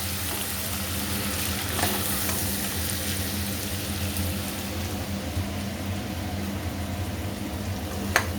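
Prawns frying in hot oil for a taro-leaf prawn dish, giving a steady, continuous sizzle with faint crackles throughout and a low background hum.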